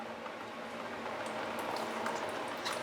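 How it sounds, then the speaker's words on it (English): Water runs and gurgles steadily out of a loosened bathroom sink trap during an unclogging job, a continuous close splashing trickle with no talk. "And as I promised, there's going to be water coming out."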